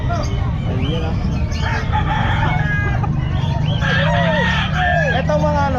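A Sweater Kelso gamefowl rooster crows loudly and close at a busy pet market. Several drawn-out crowing calls are heard, and other birds cluck and chirp around it over a constant crowd murmur.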